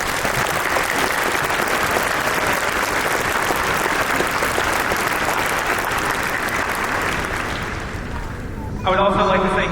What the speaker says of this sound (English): Please join me as we give them them all a big round of applause